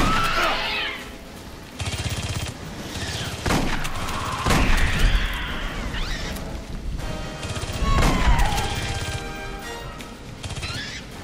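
Repeated bursts of video-game gunfire in Aliens: Colonial Marines, loud sharp volleys and rapid machine-gun rattles in several clusters across the stretch, with whooshing and creature-like effects between them and no talk.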